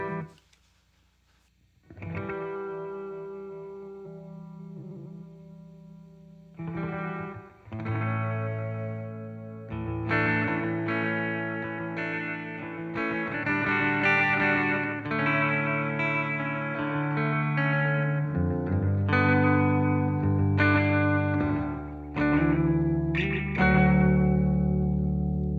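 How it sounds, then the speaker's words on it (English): An electric guitar played through vintage effect pedals rings out in sustained, layered chords with a washy, reverb-like tail and slight chorus shimmer, starting quietly and swelling louder over a long passage with no talking. "You can also get almost like a reverb-ish sound"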